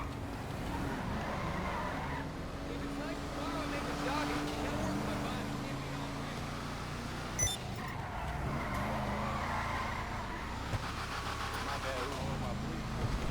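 Car engine in GTA Online running steadily with a sustained drone, brief tire skids, and a voice talking over it throughout.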